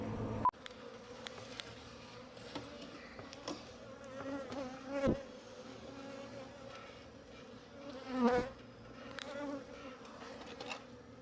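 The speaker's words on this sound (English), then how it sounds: "he is beginning to remove this beehive" Bees from a hive inside a wall, opened with a reciprocating saw during pest removal, buzzing softly and continuously nearby, with single insects droning louder as they fly past, plus a few faint knocks.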